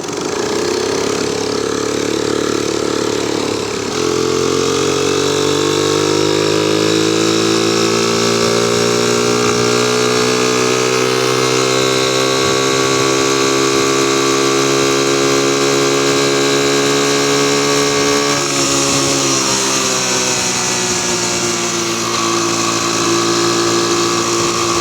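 A pedal motorbike engine running steadily on a main road, a close, continuous buzzing drone whose pitch rises smoothly after a few seconds and shifts again near the twenty-second mark, with no talk.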